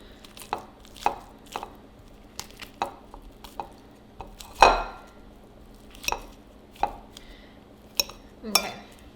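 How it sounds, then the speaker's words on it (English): Fork mashing microwaved broccoli in a bowl: a series of soft, irregular taps and squishy scrapes, about a dozen over several seconds, close and fairly quiet, with one louder clink midway and no talk. "I'm just gonna take a fork and mash these a little bit."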